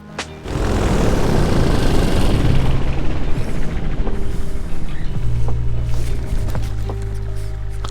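A light propeller aircraft drones loud and close as it comes in to land, its engine a steady, strong roar that holds for several seconds.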